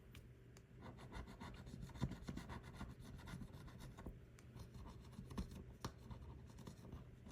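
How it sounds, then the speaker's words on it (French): Close, quiet scratching of a scratch-off sticker, a continuous rapid rubbing rasp with a few sharper ticks, no talking. "On va gratter une pastille pour voir."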